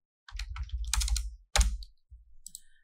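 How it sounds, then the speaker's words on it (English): Typing on a computer keyboard, close and fairly quiet, comes as short clustered bursts of clicking keystrokes with brief gaps between them and no talk. "you just type comma and then type your plugin name"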